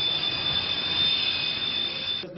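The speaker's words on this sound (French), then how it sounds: "L'avion-hélicoptère, le Tilrotor. Il décolle à la verticale pour ensuite poursuivre son vol comme un avion." A tiltrotor aircraft lifting off vertically, its engines giving a loud, steady turbine roar with a high whine running through it, sustained and close, with no voices.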